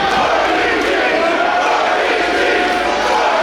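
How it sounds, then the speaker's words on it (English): A 1,200-strong crowd at an independent wrestling show roars in a steady, dense wash of cheering and shouting, loud and continuous throughout with no break. "Listen to that crowd"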